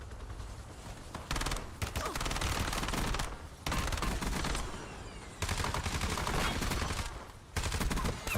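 Rapid bursts of gunfire in a battle royale shooter during a high-stakes LAN finals match, loud, dense volleys that stop and start in several waves across the stretch, with brief gaps between them.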